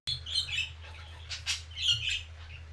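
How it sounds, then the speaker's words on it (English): Birds chirping close by, several quick tweets and short squawking calls scattered across a few seconds over a low steady hum. "The birds are very, very chatty now."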